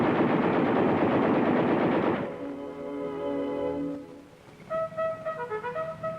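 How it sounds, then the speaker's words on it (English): M-60 Patton tank machine guns letting rip in a loud, dense burst of rapid fire lasting about two seconds, followed by ringing, echoing tones and fainter scattered reports. "A computerized fire control system brings the full fury of the tank's guns on any target with telling speed and accuracy."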